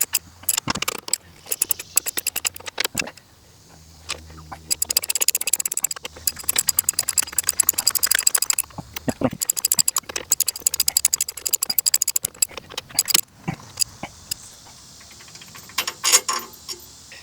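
Wrench tightening bolts on a trailer spare tire mount, with rapid ratcheting clicks in bursts and metallic clatter, close and loud with no talk.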